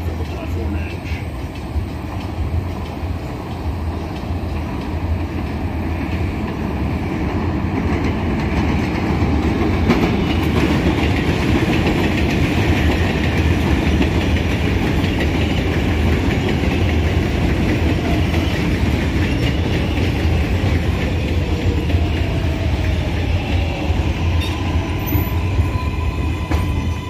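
An NYC Subway R188 7 local train rolls through an elevated station for a long, continuous passage. It gives a loud, steady rumble with rhythmic wheel clatter and faint squeals, and station noise fills the background.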